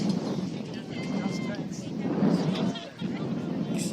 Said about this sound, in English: Extremely windy, you can hear it.